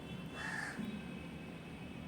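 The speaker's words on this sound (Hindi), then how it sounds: "कौवा बोल रहा है" A crow caws on a balcony: one harsh, fairly close call followed by a lower short note, over quiet background hum and no speech.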